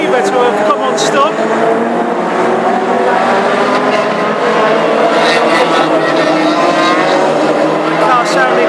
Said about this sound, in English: The car sounding very, very different to the others